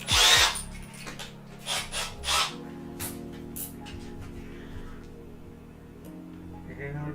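A drill bores a quarter-inch hole for a bolt while building an adjustable camera mount, a low steady motor hum with a few sharp clicks and knocks at the start and a voice briefly speaking.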